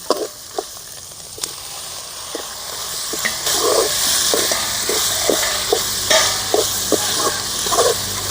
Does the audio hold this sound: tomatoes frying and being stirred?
yes